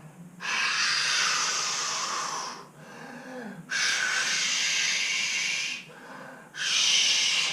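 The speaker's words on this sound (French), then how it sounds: "Je souffle le plus longtemps possible." Three long, slow exhales are blown out hard during a children's yoga exercise, each lasting a couple of seconds. Close and breathy, they are separated by softer, quieter breaths between them.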